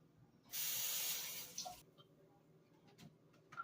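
Blueberries are rinsed under a running kitchen tap, a short burst of hissing spray lasting about a second and a half, followed by faint drips and light clatter.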